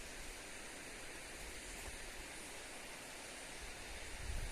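Constant rushing roar of a waterfall pouring into a hilly valley under mist and low cloud, dense and unbroken throughout, swelling slightly at the end, with no talking.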